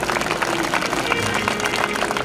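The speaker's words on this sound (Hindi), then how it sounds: "इन माँ बाप के लिए भी ताली बजे, जोरदार ताली बजे।" An audience applauding at a kirtan programme at Khategaon, dense steady clapping from a large crowd that fills the whole moment, with a faint voice underneath.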